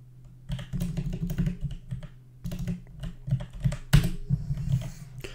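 Close, quick keystrokes clatter on a computer keyboard in two bursts of typing as Python code is entered, with a short pause between them and no voices.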